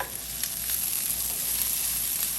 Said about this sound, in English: I'm gonna cook it down for like 3 minutes, more or less, until they're nice and translucent and caramelized